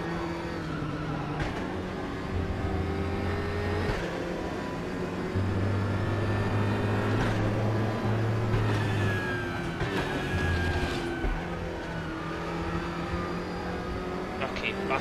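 GT4 race cars lap Sepang in the RaceRoom racing game, engines droning steadily with shifting pitch and brief revving surges throughout, while a voice talks over the continuous mechanical hum.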